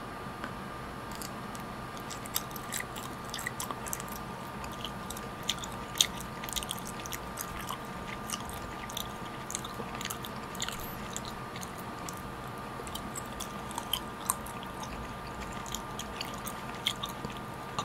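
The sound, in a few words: chewing sugar-coated mango jelly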